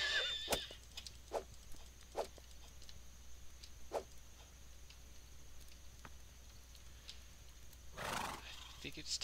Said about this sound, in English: Crazy lunatic horse.